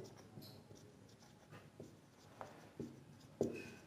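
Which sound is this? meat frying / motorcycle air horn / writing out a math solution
writing out a math solution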